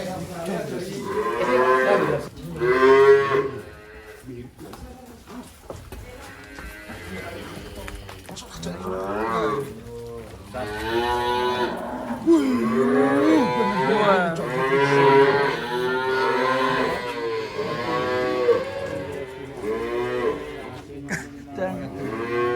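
Giant, uniquely coloured cattle on a farm moo repeatedly, drawn-out calls that rise and fall, mixed with people talking nearby throughout.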